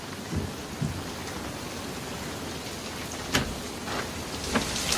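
Steady rain falls outside with a dense hiss, broken by several dull rumbles and sharper cracks of thunder at irregular intervals over five seconds, with no voices.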